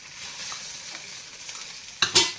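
Mustard seeds, cumin and chillies hit hot oil in a pan, giving a steady close sizzle with a sharp burst of louder crackling and spitting near the end.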